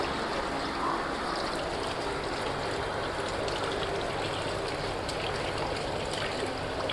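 Water runs steadily while vegetables are washed, a continuous close splashing trickle with no pauses and no talk.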